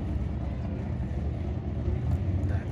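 Stock Honda NSX with deflated tires idling in line at a drag strip, a steady low engine rumble close by with no clear revving or launch.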